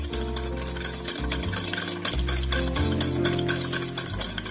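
Sugar and eggs being beaten together in a bowl for a quick chocolate cake, a steady rhythmic stirring that sits under prominent background music.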